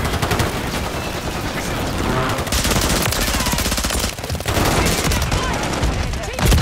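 Call of Duty gunfire comes as loud, rapid automatic bursts, near and sustained, with a brief pause before more sprays, and a voice is faintly under it.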